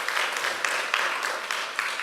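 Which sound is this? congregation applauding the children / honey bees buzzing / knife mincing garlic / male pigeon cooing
congregation applauding the children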